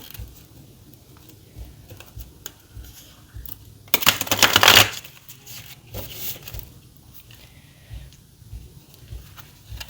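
A brief, crisp riffle of cards being shuffled rises out of quiet background rustling, lasting about a second before fading back to soft handling sounds.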